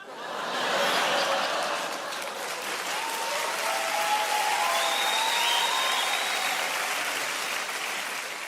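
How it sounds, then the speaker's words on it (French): Audience at a stand-up comedy show breaking into sustained applause, dense clapping swelling early and holding steady with a few scattered whistles and chuckles mixed in. "Franchement, vu les applaudissements"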